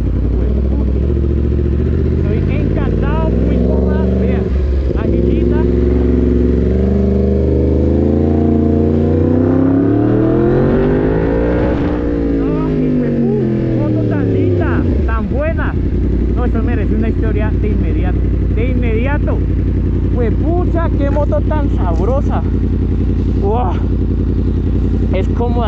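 A Yamaha MT-10 motorcycle engine revs loudly and close by, rising and falling through several throttle blips, with a held high rev swelling near the middle and a steady idle rumble underneath. People speak over the engine.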